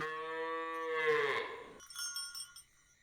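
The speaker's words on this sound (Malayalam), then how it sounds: "ദൈവമേ, പശുവിനെ ഇതുവരെ തൊഴുത്തിലാക്കിയില്ലേ?" A cow gives one long, clear, close moo that rises and falls, followed by a few faint bell-like clinks.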